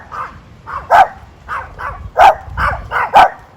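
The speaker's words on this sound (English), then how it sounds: "this barking dog." A dog barks in repeated loud bursts, close by, with several sharper yelps standing out among lower woofs in an uneven rhythm, no talking.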